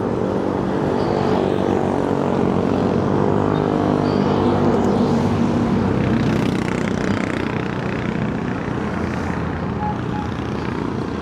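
A drone flies above floodway excavation work at Maggahan, its propellers making a loud, steady buzzing whir for the whole stretch, with no talking.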